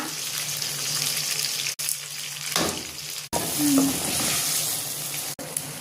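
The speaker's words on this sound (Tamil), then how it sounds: "தாளிக்கிறதுக்கு எண்ணெய், கடுகு, தனியா, உளுத்தம்பருப்பு, பூண்டு, காஷ்மீரி சில்லி, தனியா," Mustard seeds, urad dal, coriander seeds, garlic and Kashmiri chillies temper in hot oil, a steady loud sizzle and crackle that runs throughout, with brief clatters of a spoon stirring in the pan.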